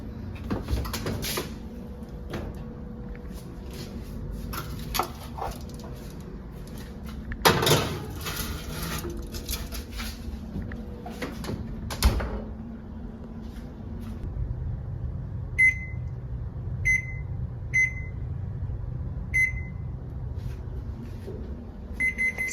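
An oven door clunks open and shut several times while pizza rolls go in to bake, followed by a low hum and a series of short, regular timer beeps.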